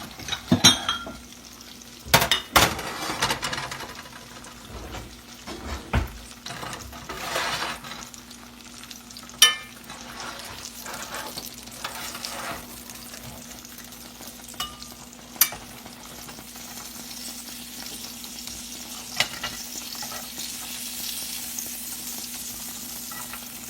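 Sausage frying in a pan, a steady crackling sizzle under scattered clinks and scrapes of a utensil against the pan, close and moderate, with no talk heard.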